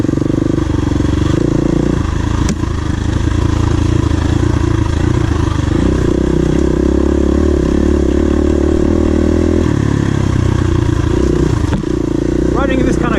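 A KTM 350 EXC-F dirt bike engine runs hard while riding a trail at NATRA in West Point, Tennessee, a loud continuous mid-pitched drone with shifting revs and brief clatter, close to the rider.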